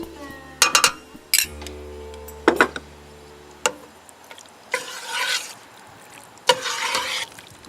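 Greek yoghurt stirred into chicken curry in a saucepan: a spoon clinks and taps against the pan in sparse, separate knocks, followed by soft scraping stirs, all quiet and close.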